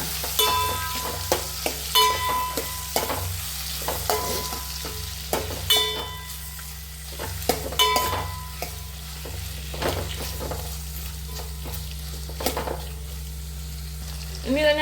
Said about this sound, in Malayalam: ഇത് മാമ്പഴം ഇട്ട് കൊടുക്കാൻ പോവാണ് അത് അതിലിട്ടിട്ട് ഇളക്കി കൊടുക്കാം